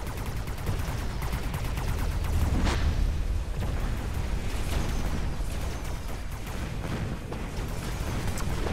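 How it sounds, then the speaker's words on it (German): Continuous booming explosions and crackling blasts rumble without pause, dense and loud, from heavy fire in the video game Mechabellum. "Explodiert hier wieder."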